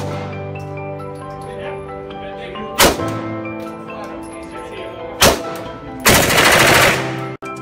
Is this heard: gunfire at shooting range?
yes